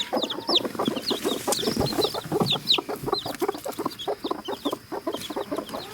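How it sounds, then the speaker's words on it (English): A hen clucks in rapid, rhythmic bursts close by while newly hatched chicks cheep in high, thin peeps throughout, a busy and steady mix of farmyard bird calls. "we have some little chicks"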